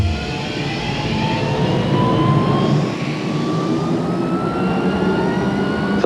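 Southwest Airlines jet airplane flying past, a loud sustained engine roar with a slowly shifting whine, continuous for the whole stretch with no talk.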